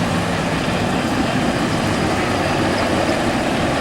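A six-wheeler heavy lorry engine at a vintage vehicle rally gives a dense, steady low rumble and roar, loud and close, continuous without a break.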